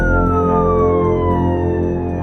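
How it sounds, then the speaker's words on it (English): A ground ambulance siren sounds close and loud, a steady wailing tone with a slight falling pitch as the vehicle arrives, over a low engine rumble. "The ground ambulance has arrived to take Brendan to hospital."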